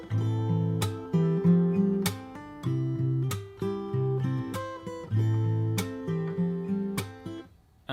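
Solo fingerstyle acoustic guitar plays the bridge of a song, picked chord patterns with regular slapped percussive hits, close and bright, the phrase repeating before fading out.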